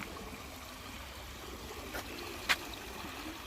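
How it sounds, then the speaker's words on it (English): Several small waterfalls trickle steadily outdoors, a soft continuous wash of running water with a couple of faint brief knocks partway through. "There's probably about 6 or 7 of these little waterfalls up there"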